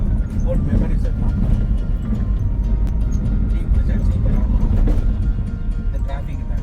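City road traffic in Chennai, heard from inside a car: a constant low rumble of engines and road noise, with voices talking over it throughout.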